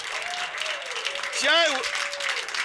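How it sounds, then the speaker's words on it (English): A late-night comedy show audience gives a round of applause, steady clapping heard under a voice speaking over it. "a big round of applause back there"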